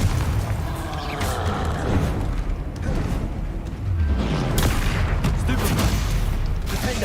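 Confringo blasting spells from Hogwarts Legacy land amid a busy spell duel, giving repeated booming blasts, crackles and mechanical clatter over continuous loud combat noise.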